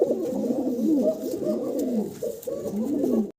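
A pair of Danless Shartin pigeons coo steadily at close range, their soft rolling calls repeating in overlapping phrases with a brief dip near the end.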